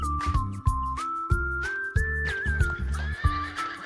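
Horse on a farm, heard as a close whinnying cry with a wavering pitch over a steady rhythmic backing, lasting several seconds.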